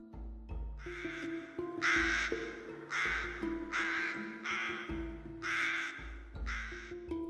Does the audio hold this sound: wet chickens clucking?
no